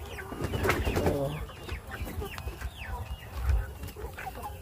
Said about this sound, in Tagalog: ito yung ating isang vintage line na hen